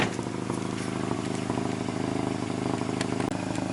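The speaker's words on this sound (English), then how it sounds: "car's been running for a minute" A 2003 VW Jetta engine idles with a steady, low rumble from start to finish, humming evenly at close range with no revving and no talking.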